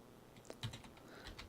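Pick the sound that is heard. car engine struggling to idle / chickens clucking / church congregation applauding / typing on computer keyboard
typing on computer keyboard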